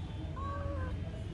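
A pet cat gives a soft, short meow near the microphone over a low background rumble, with no speech.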